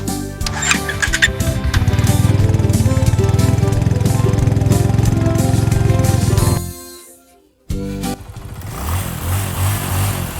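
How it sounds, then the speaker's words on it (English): A motorcycle engine drones loudly and close with a rough, buzzing roar. It fades and cuts out briefly near the end, then rumbles back at a lower level. "motorcycle,"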